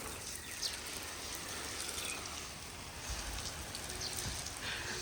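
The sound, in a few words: water spraying from a hose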